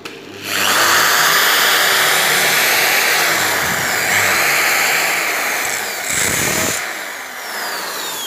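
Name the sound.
power drill drilling hole in wall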